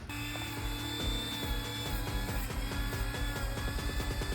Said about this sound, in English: He's sanding the helmet.